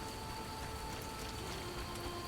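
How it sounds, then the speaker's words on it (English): Steady rain falling in The Witcher video game, a continuous, even hiss of rainfall with faint pattering on surfaces, heard alone with no talking. "It's just raining normal rain"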